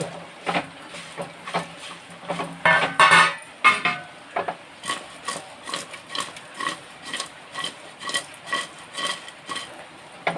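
A spoon stirs pakoda pieces in a pot of tamarind-based pulusu, making repeated scraping and clinking strokes in a steady rhythm. A few sharper knocks come near the start, and the strokes are close and moderately loud.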